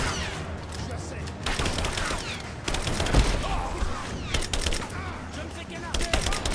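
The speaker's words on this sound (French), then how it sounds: "Je me fais canarder!" Gunfire in the video game Rise of the Tomb Raider, dense rapid bursts of shots crackling steadily throughout a combat scene, mixed with other game effects and louder impacts midway.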